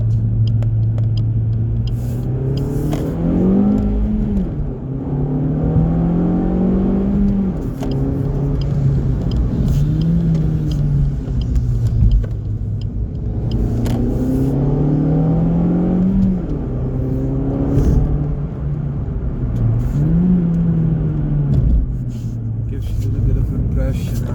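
A lowered 2019 Suzuki Swift Sport Hybrid ZC33S with the K14D engine and aftermarket exhaust drones at low revs, then repeatedly revs up and drops between gears, a rising engine note under a driver talking throughout.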